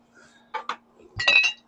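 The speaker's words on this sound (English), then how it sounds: "Let's use our knife." A knife clinks against a plate while cutting into pecan-smoked salmon, a few short close scrapes and taps in an otherwise quiet setting.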